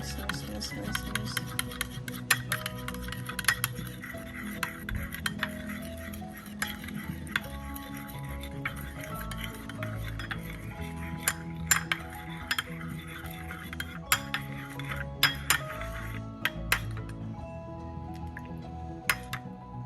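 Vegetable salad with broccoli tossed in a bowl using utensils, repeated clinks and scrapes of metal against the bowl at an uneven rhythm, with a voice speaking intermittently over the mixing.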